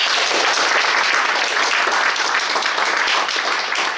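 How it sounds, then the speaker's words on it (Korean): An audience at the founding assembly of a political organization applauds, with dense, sustained clapping from many hands rising and fading slightly over several seconds. "함께 박수 부탁드립니다."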